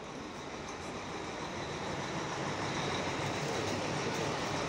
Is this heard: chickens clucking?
no